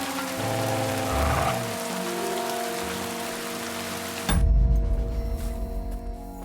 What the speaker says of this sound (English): Oh, is the rain finally stopping?